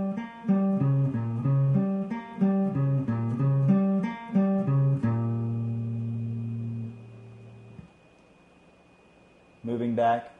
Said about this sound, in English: your arpeggios should sound like this